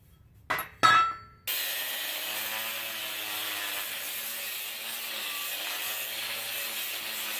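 A handheld grinder cutting apart a solidly welded metal part, both sides welded: a few sharp metallic knocks, then a steady, loud high-pitched whine and grind holding for several seconds with no talking.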